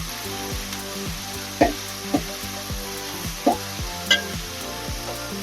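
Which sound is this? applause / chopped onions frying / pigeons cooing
chopped onions frying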